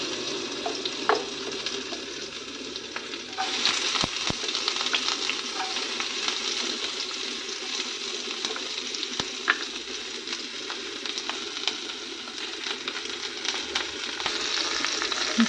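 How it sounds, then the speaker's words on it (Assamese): Sliced onions fry in a hot wok with cardamom and cinnamon, giving a continuous close sizzle broken by frequent scraping and stirring clicks, with no voices. "পিঁয়াজখিনি ধুনীয়াকৈ ৰঙচুৱাকৈ ভাজি ল'ম মই।"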